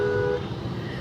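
Busy daytime street traffic near Charminar, with buses running, gives a brief steady roadway rumble and a short horn toot at the start.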